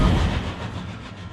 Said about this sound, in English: There's no mistaking that for anything but a ghost train.